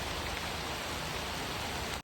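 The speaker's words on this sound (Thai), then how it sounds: "ตอนนี้ฝนก็กำลังลงเม็ดเลย" Steady rain falls as a dense, continuous hiss of drops on surfaces, loud and even throughout before cutting off abruptly at the end.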